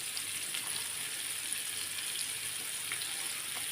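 Large fish pieces fry in a pan, a steady, close, even sizzle that stays constant throughout with no talking.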